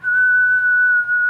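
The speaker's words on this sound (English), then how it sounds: "Common Scoter Drake's whistle." A common scoter drake gives a single clear, sustained whistle, held level for about a second against quiet surroundings.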